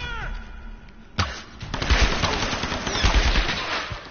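Rapid automatic gunfire in the Tomb Raider video game on PS4, bursts crackling loudly after a brief lead-in of whooshing effects, dense and continuous to the end.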